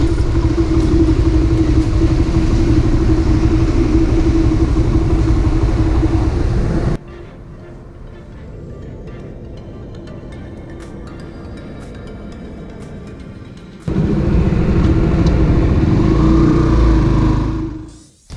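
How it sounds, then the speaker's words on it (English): TVS Raider 125cc motorcycle engine running loud and steady at idle, then switching off into a quieter stretch of ambient noise before firing up again and idling, finally cutting out at the end. "the moment the engine starts idling, within a few seconds it switches off, and all you have to do is just tug at the throttle there and it starts immediately"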